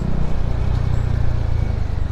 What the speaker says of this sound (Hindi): ये देखो कोरोना का ट्रैफिक.